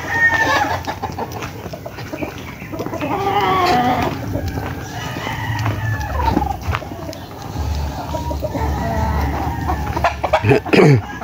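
Chickens cluck and a rooster crows on a farm, a busy close flock with overlapping calls and a few sharp cries, faint voices in the background.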